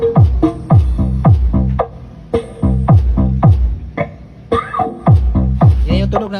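A new MCV D15 subwoofer plays through an amplifier on channel 1 during a soundcheck, giving loud, booming bass thumps in a repeating rhythmic pattern about every half second, with no talking over it.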